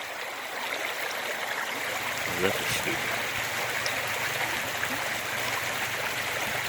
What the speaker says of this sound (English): This here is the same creek that flows through the property that I live on.